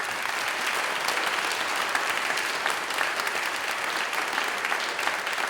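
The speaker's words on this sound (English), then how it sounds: "And one more round of applause for our speakers." Sustained, steady audience applause at the close of an evening event, a dense even clatter of many hands that holds throughout with no break.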